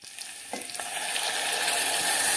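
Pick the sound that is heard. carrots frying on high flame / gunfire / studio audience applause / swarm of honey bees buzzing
carrots frying on high flame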